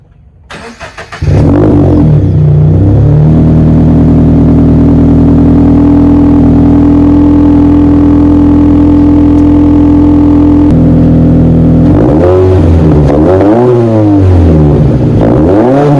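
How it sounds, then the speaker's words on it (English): A first-generation Subaru BRZ / Scion FR-S / Toyota 86 with a PLM axleback exhaust cold-starts: a loud crank and catch, then a steady high idle drone for several seconds, followed by a few blips of revving near the end. "it's time for you guys to get the cold start of this new exhaust."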